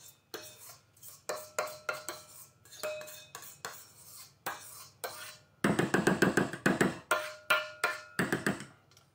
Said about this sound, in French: Je continue à intégrer mes blancs.